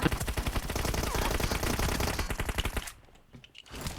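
Rapid automatic gunfire in the mobile battle-royale game PUBG Mobile, dense loud bursts of shots for about three seconds, then a short quieter pause with a few scattered pops.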